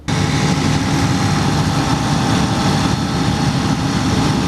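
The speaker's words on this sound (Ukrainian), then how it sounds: "Даний генератор є дизельний, він економний по паливу, надійний, сучасний тихо працює в захисному кожухі" A 300 kW diesel generator in a protective casing at a city water utility starts abruptly into a loud, steady, broadband engine drone that holds unchanged throughout, close by and with no voices.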